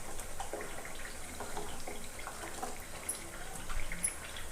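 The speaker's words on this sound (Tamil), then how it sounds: "1 லிட்டர் வரை தண்ணி ஊற்றலாங்க" Water poured into a pot for semiya payasam, a soft, steady liquid trickle and splash at close range, fairly quiet, with no talk.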